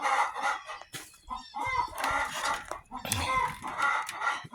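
Young pullets cluck and squawk in a coop nearby, with overlapping chattering calls and a crow-like cry, while a person talks over them.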